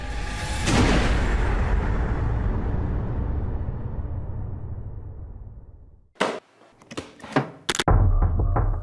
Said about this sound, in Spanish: Uy, mira la media explosión que mandó.